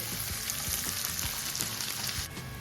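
Onions frying in oil in a pan while making prawn biryani, a dense continuous sizzle with soft crackles and stirring knocks, close and steady with no talk.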